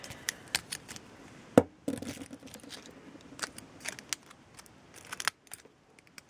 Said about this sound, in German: Hier muss ich noch mal schneiden.